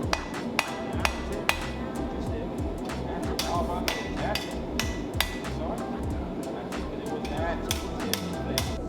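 Repeated sharp metallic hammer strikes on a steel knife blade being forged ring out at an uneven pace over a dense, noisy workshop background, with someone talking throughout.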